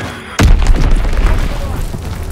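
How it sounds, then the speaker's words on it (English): An enemy bomb detonates in a WW2 video game: a single sudden, loud boom with a heavy rumbling tail that lingers and slowly fades. "Enemy bomb incoming! Get to cover!"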